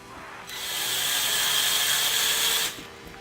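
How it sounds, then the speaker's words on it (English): A power drill whirs steadily for about two seconds, boring out a broken golf spike from the sole of a golf shoe, loud and close, starting and stopping abruptly. "So we've got it center drilled out."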